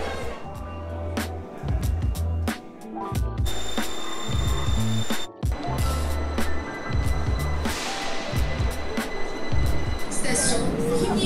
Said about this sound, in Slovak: Ideme sa previesť metrom do botanickej záhrady.